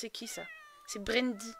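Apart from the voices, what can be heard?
cat meowing in video game The Sims 4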